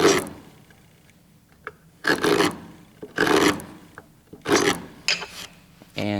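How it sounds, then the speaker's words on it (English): A wood chisel is pulled in repeated scraping strokes across a wooden boot jack workpiece, four or five close, rasping bursts separated by quieter pauses and small knocks. "I can then use the chisel and the scraping motion that you can do with it. I can pull this across."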